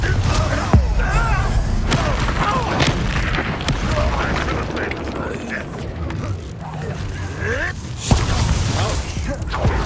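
In Hogwarts Legacy, the Confringo fire spell goes off in booming blasts amid battle sounds and clanking mechanisms, with heavy thuds punctuating a continuous loud mix while a voice talks over the action.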